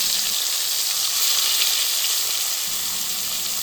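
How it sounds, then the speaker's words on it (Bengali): Hilsa fish tails sizzle in hot mustard oil in a wok, a steady, close frying hiss that holds evenly throughout with no voices. "গরম কড়াইয়ে সরিষার তেল দিয়ে তাতে ইলিশ মাছের লেজাগুলি একে একে দিয়ে উল্টে পাল্টে ভালোভাবে ভেজে নিতে হবে"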